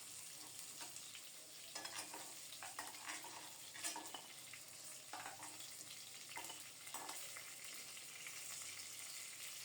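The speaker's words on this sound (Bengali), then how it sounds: "মাছের সাথে দিয়ে দিলাম। এটাও লাল লাল করে ভেজে নেব।" Fish and potatoes frying in hot oil in a home kitchen, a continuous soft sizzle with scattered crackles and occasional stirring scrapes, close and fairly quiet, no talking.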